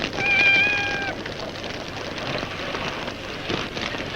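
A cat gives a single brief meow at the start, heard over a steady rain-like hiss that continues afterward, from a 1952 western film soundtrack.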